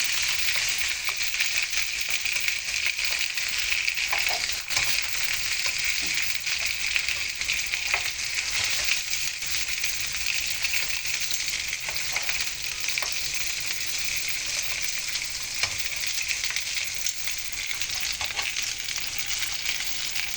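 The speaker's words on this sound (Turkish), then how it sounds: "Biberlerimi kızartıyorum." Steady, loud sizzling of peppers frying in a pan continues without pause, with occasional faint stirring clicks.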